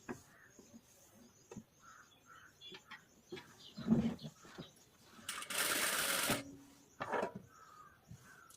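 A sewing machine stitches the side seam of a blouse in one loud, close run of about a second, while crows caw faintly in the background before and after.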